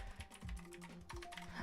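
Quick, uneven bursts of keystrokes on a computer keyboard, close and fairly quiet, with a faint musical tone running underneath.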